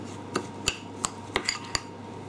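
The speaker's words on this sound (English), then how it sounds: "all you do is just gently give that a stir" Several sharp clinks and taps of a utensil against a bowl while cheesy Quaver crumbs are gently stirred into mayonnaise, about five distinct knocks spaced irregularly over a quiet background.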